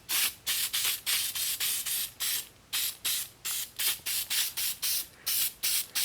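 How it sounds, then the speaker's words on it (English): Rapid repeated bursts of an aerosol rust neutralizer spray hiss in a steady rhythm, close up and loud, with no voices, sprayed onto a rusty Honda CR-V. "let me go ahead and just spray this on"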